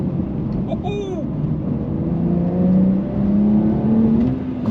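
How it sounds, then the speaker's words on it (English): A Porsche 992 Carrera 2 GTS with a 7-speed manual gearbox pulls hard, its engine note climbing steadily under a constant rush of road and wind noise. "my first drive video on this Porsche 992 Carrera 2 GTS in manual"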